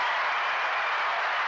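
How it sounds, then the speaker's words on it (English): Applause sound effect, a short even wash of clapping heard alone for about a second and a half, steady and moderately loud. "I think you deserve an applause."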